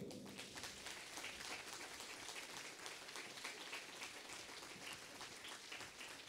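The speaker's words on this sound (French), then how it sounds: "je vous demande de vous applaudir d'abord" A crowd applauds steadily at the opening ceremony of the ULB Relais pour la Vie 2019 cancer charity relay, the dense clapping sustained and moderately distant for the whole stretch with no voices over it.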